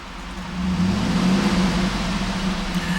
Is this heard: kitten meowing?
no